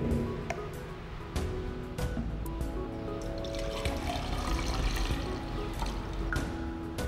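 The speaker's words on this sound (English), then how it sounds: "We now pour this 250 milliliters water into this 1 liter measuring cylinder." Water is poured steadily from a 250 millilitre measuring cylinder into a 1 litre measuring cylinder, a continuous close splashing and trickling pour that lasts several seconds.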